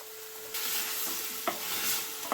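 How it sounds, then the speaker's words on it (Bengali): Raw vegetables and paneer are stirred in a hot frying pan with a soft sizzle and a few quick scraping strokes of a spatula, close and fairly quiet, with no voices. "সবজিগুলো দিয়ে একটু নাড়াচাড়া করে নিতে হবে"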